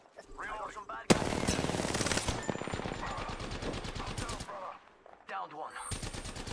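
Apex Legends gunfire erupts suddenly as rapid automatic bursts, loud and close, rattling for several seconds before stopping, then resuming briefly, with a voice speaking under the shots.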